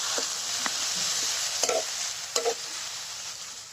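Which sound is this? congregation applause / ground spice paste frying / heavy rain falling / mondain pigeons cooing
ground spice paste frying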